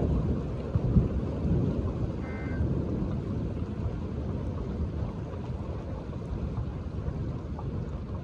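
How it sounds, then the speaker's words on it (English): A very strong severe spring thunderstorm with constant lightning sends low, rolling thunder rumbling continuously under steady rain and wind buffeting the microphone, loud and unbroken throughout. "Very strong severe thunderstorm."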